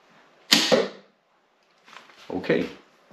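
A Steambow crossbow fires a bolt twice, each shot a sharp loud snap followed by a short rattling decay, separated by about a second and a half of near silence.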